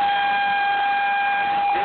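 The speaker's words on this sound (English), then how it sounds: "I can blow an air horn" An air horn blares in one continuous loud, steady blast with strong harmonic tones, lasting the whole moment without a break.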